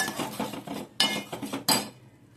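A spoon stirs and scrapes mustard seeds, cumin and a ground masala paste in a pan for Kolhapuri masoor curry, giving a few clinking metal strokes in short bursts, fairly quiet, with no voices.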